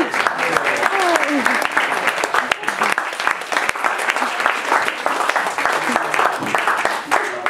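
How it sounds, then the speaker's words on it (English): Sustained applause from an audience at a poet's book launch at Kingston Writing School, dense and steady for the whole stretch, with a few voices and cheers mixed into the clapping. "Round of applause."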